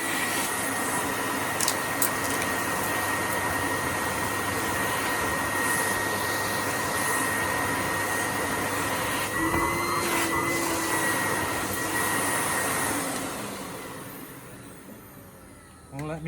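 An Electrolux Dolphin Z2230 vacuum cleaner runs on super boost with a loud, steady whine and roar, then the motor winds down near the end.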